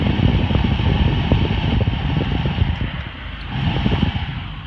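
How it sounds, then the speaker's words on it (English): Blower fan motor in a 2002 Volvo S40, running again after a resistor repair: a steady, loud whirring hum with a faint mechanical flutter, continuous throughout with no talking. "I don't know if you're going to be able to hear this, but that's a beautiful sound."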